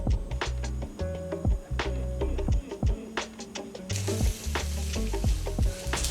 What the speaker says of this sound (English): Now we're gonna go on high heat, bring this thing to a boil and reduce it down.